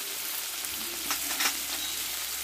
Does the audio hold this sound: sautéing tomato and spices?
yes